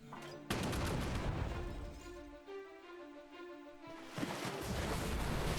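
Barrage cannons fire in the video game Battle Nations, booming in bursts, a heavy barrage of blasts with a brief quieter gap midway before the firing resumes.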